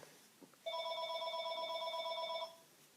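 A telephone rings indoors in a single sustained electronic burst of about two seconds, steady and clear against a quiet room with no talk.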